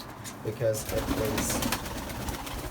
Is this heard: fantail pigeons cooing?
yes